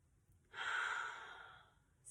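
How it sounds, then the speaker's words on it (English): One long, deep exhale during a yoga stretch, breathy and close, swelling quickly and then fading, with a faint intake beginning at the very end. "Nice big breaths in and out."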